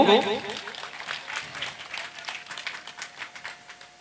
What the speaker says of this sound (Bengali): একবার জোরদার হাততালি চাইব।